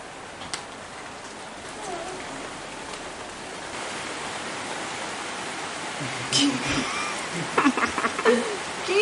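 Rain falls at a dog shelter in Thailand, a steady hiss of drops on surfaces throughout, with scattered faint voices and dog sounds toward the end.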